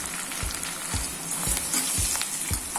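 Dried manathakkali berries (vathal) frying in oil for vatha kuzhambu: a dense, bright sizzle with soft utensil scrapes roughly every half second, steady and close.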